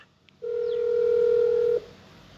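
A telephone call being placed: one steady electronic phone tone that holds for about a second and a half, clear and close, with no voices over it.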